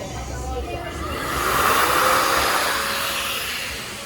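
A hand air dryer on the Seattle waterfront blows with a steady, breathy roar that swells louder midway and then eases, with a faint tonal whine running beneath it.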